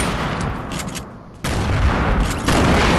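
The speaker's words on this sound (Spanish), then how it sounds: "Aquí escucho bombas" Loud booming blasts and crackling bursts in Fortnite, a dense roar that dips briefly, then jumps back up with two sudden, heavy bomb-like explosions, close and continuous.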